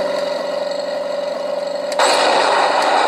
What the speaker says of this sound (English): There is a servo recoil in there, or something, and then there is a flash bulb way deep in the barrel